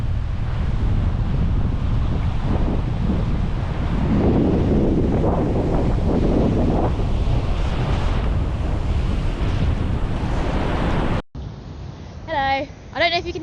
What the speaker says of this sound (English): I don't know if you can hear me because it's so windy.